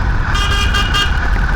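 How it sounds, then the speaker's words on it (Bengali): A vehicle horn honks on a road near the Durgapur bus stand, a steady, bright tone held through most of the moment over loud traffic and engine rumble. "কাকা আবার হর্ন মারছে কেন?"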